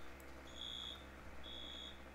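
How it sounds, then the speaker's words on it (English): A fire alarm in the Roblox game ER:LC sounds two long, steady electronic beeps, each lasting under half a second, over a low background hum. "they pulled the fire alarm"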